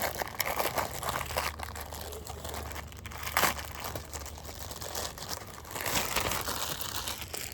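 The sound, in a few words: plastic bag of Tesla cabin air filter being opened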